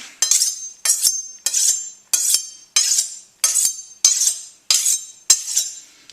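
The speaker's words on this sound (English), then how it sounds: "We're going to take out our chef's knife, and we're actually going to give that a little bit of a sharpen." A chef's knife is drawn against a sharpener in nine even, bright metallic strokes, each a crisp ringing scrape about two thirds of a second apart, close and clear with no talking.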